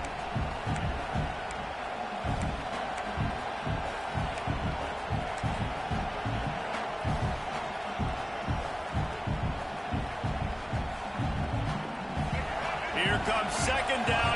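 A stadium crowd at a football game roars in a dense, sustained wash of cheering, swelling slightly toward the end, with an announcer talking over it throughout.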